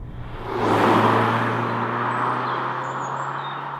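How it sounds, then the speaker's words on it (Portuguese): A Mazda Skyactiv-G car engine turns over at low revs in fourth gear at about 40 km/h. It gives a steady low hum under a swell of rushing road and wind noise, with no talking. "vou em quarta e sinto que o motor não tem dificuldade nenhuma em rolar a esta velocidade."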